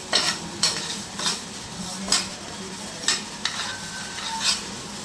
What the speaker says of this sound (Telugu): జీలకర్ర మెంతులు వేసుకొని మంచిగా వేపుకొని మంచిగా దూరగా వేపుకోవాలి